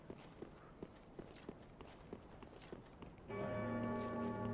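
A church bell rings in the Dark Souls 3 video game, its sustained ringing tone starting suddenly after a faint series of steady, evenly spaced footstep-like thuds and then carrying on to the end.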